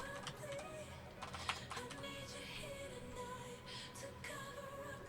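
Faint, irregular keystrokes on a computer keyboard patter through a quiet room during a branding workshop on color and fonts, with scattered louder clicks.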